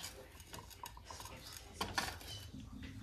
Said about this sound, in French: Regardez, on a plein de vaisselle.